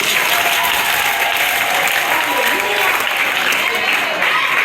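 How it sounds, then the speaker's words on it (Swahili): A church congregation at a Pentecostal meeting claps loudly and steadily, dense continuous applause filling the room with crowd noise throughout. "Pigia Yesu makofi mazuri sana."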